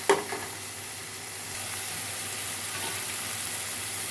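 Sliced onions frying in a pan make a soft, even sizzle with faint crackling after a brief knock at the start, steady and fairly quiet throughout.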